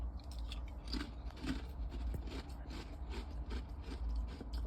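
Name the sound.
crunching while eating food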